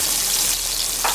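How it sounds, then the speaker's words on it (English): Yellow plantain slices frying in hot oil, Guyanese style, giving a dense, steady crackling sizzle that is close and fairly loud, with no talking. "I'm gonna let these fry until they're brown."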